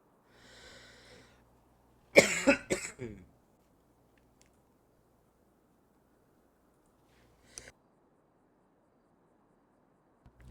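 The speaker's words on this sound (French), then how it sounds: "j'ai une toux, les gars, c'est incroyable" A man in a cramped indoor room coughs in a harsh burst of several rapid hacks, preceded by a faint breathy sound and followed after a pause by a single short cough, close and otherwise quiet.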